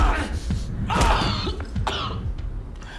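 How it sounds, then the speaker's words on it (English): A man in a Breaking Bad scene coughing harshly, several rough bursts clustered around the middle with throaty clearing sounds, up close and fairly loud over quiet background. "Now he's coughing up blood."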